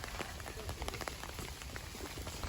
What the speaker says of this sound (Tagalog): Ano, umuulan na.